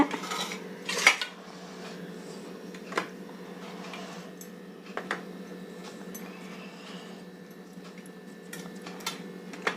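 A knife cuts hard Mysore Pak sweet into pieces on a metal tray, giving sharp scattered clinks and taps over a quiet background.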